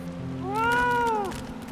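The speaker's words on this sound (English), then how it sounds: "Marshmallowy cat" A single drawn-out cat meow, rising and falling over about a second, sits clearly up front against a low steady hum.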